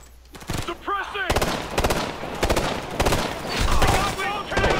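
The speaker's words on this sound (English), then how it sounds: "Mounted MG! Suppressing!" A mounted machine gun fires in the video game Ghost Recon Future Soldier, set in Russia's Caucasus, with loud, rapid bursts of gunfire repeating throughout. Voices are heard briefly under the shooting.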